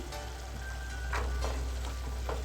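Minced meat (keema) frying with ginger garlic paste in a karahi, a steady broadband sizzle throughout with a few brief scraping stirs of the spoon, no voices.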